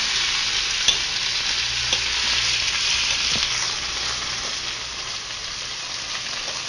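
Chicken livers frying in grease in a pan, a continuous close, bright sizzle with occasional soft pops and scraping as pieces are turned, no voices.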